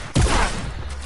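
A single sharp gunshot in a video game, a sudden loud crack with a brief rumbling tail fading over the next second.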